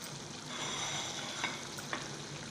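Chicken sizzles in hot oil in a pan for butter chicken, a steady close frying hiss with a couple of faint clinks from stirring.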